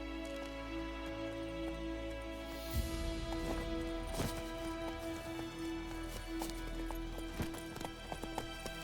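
Roach, Geralt's horse in The Witcher 3, galloping with a steady, rhythmic clip-clop of hooves under game ambience and music.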